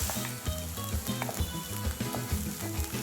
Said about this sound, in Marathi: एक मोठा बोल कांदा बारीक चिरलेला घेतलाय, तो घालूया